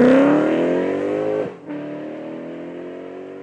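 A Lexus IS F sedan accelerates hard under full throttle, its engine note climbing loud and close, dropping briefly at a gear change, then pulling again in the next gear.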